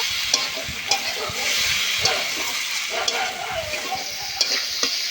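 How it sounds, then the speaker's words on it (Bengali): Elephant foot yam stalks being sautéed in a pan with fried prawns and a spoonful of sugar, giving a steady sizzle with repeated scraping stir strokes throughout, close and without talk. "এক চামচ চিনি দিয়ে দেবো চিনিটা দিয়ে আবার একটু বেশ ভালো করে কষে নেব"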